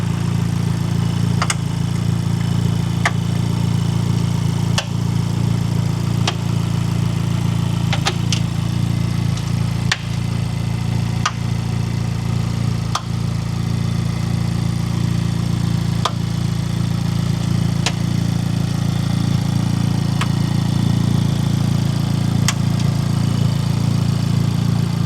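A Honda Civic Type R FL5 engine, rev-limited at about 3,500 RPM, runs at a steady, even drone for the whole stretch, loud and close, with only a few faint clicks and no talking.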